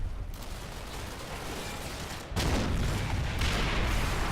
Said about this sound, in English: This is definitely tank fire though.